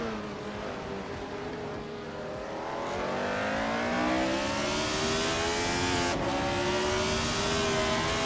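A 1976 McLaren M26 Formula One car in a racing game, its high-pitched engine revving steadily upward through the gears, loud and continuous with a rising whine and no talk over it.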